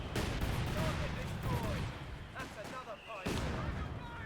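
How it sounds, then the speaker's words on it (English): Mortars clear an S-mine field in the Company of Heroes 2 video game, with repeated booming impacts and rumbling explosions heard under steady commentary voices. "looks like we're clearing the S-mine field using the mortars there"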